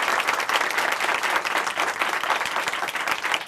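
A church congregation in a Korean Christian broadcast studio applauds steadily, a dense, even clatter of many hands clapping close and loud throughout, with no talking over it.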